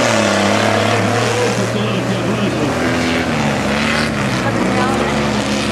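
An REO M35A2C military truck manoeuvring on a muddy track, its engine droning loud and steady with rising and falling revs, while people talk over it.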